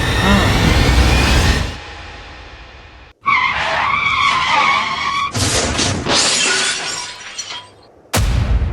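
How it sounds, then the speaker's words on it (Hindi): A car crash effect in a dramatic story: a loud tire skid fades out, then after a gap comes a harsh crunching, shattering impact with scraping debris. It ends in a sudden loud burst. "मैंने अभी किसी को गाड़ी ठोक दी।"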